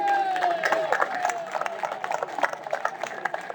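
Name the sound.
audience applause at ham fair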